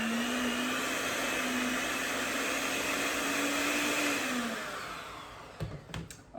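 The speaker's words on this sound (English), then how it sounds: "I'm gonna beat these up just to get them mixed together" An electric hand mixer beats butter with brown and granulated sugar for cookie dough, a steady loud whir holding pitch for about four and a half seconds before stopping, followed by a few bumps and clatters.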